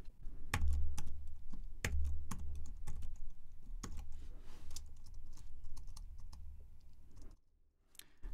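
Typing on a computer keyboard at a network configuration workstation, a close run of irregular key clicks with a few sharper taps, ending in a brief quiet moment.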